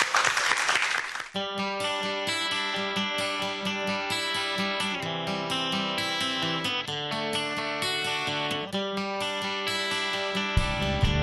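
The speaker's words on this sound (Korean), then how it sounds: "우리 대표님에게 박수 한번 부탁드립니다." An audience briefly claps to welcome a young caricature-business founder at a startup showcase. A short burst of applause is quickly drowned out by loud, steady music that carries on to the end.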